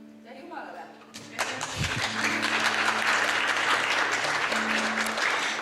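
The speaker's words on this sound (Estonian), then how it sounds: "Ikka plaksutamisega saab tänada." An audience breaks into sustained applause as thanks after a speech, dense clapping that swells and holds loudly for several seconds, following a brief spoken moment at the start.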